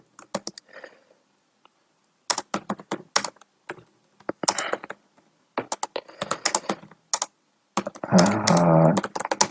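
Fingers tap on a computer keyboard in short, quick bursts of clicking keystrokes separated by pauses, heard up close and alone.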